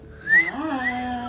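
A person whistles indoors, close by, in a brief wavering tone that slides up and then settles lower, lasting just over a second.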